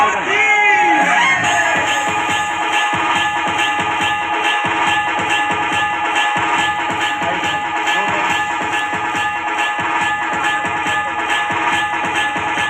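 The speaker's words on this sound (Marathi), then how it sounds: "सगळ्यांनी टाळ्या वाजवायच्या" An audience applauding child actors being honoured at a staged historical play about Sambhaji Raje, steady massed clapping with some crowd noise and a voice speaking over it throughout.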